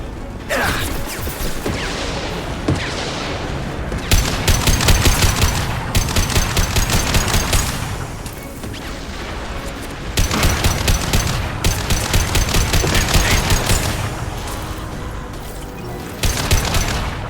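Weapon gunfire in the video game Mass Effect 2, loud sustained bursts of rapid automatic fire repeating in several volleys with short pauses, close and dense, with mechanical clicks between bursts.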